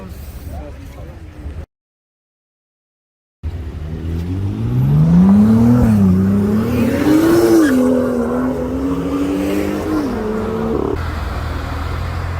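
A black Lamborghini Aventador S fitted with a Secret Weapon exhaust revs loudly and close, its engine note rising and falling in long sustained pulls after a brief gap of silence, with people talking underneath.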